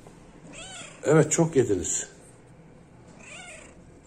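Cats meow close by, giving several loud, overlapping cries in a short burst. A person talks to them in the middle of the meows and a fainter meow follows afterward.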